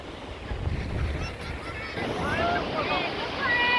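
Sea waves wash onto Malvan beach in a continuous rushing surf with wind buffeting the microphone, and voices come through faintly in the second half.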